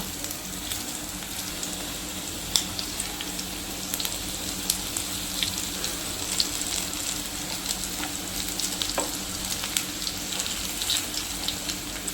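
Prawn taro-leaf rolls (alu vadi) frying in a pan, a steady close sizzle with fine crackles and occasional sharper pops throughout, no voices.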